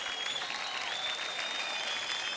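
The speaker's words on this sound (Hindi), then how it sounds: "जोरदार तालियां" Steady applause from an audience at a film award ceremony, dense continuous clapping with no talk, moderately distant and even in level throughout.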